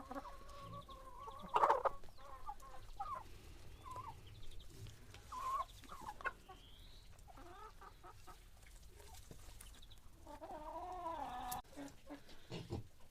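Adler Silver hens and roosters cluck and cackle at a distance, scattered calls from several birds overlapping in a faint farmyard background.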